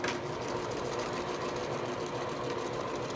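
Sewing machine running steadily as it back stitches a pillow seam, a close, continuous mechanical whir with a fast rattling needle rhythm throughout.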